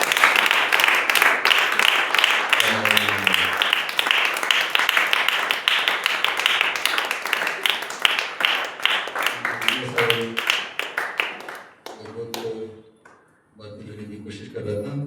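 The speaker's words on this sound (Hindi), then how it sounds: "थोड़ी देर ताली बजाइए।" A congregation at a Hindi-language church service claps hard and fast. The clapping thins into scattered claps and then stops, while someone speaks intermittently over it and after it.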